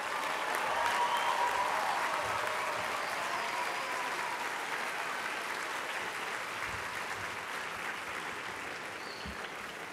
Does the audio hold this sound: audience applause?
yes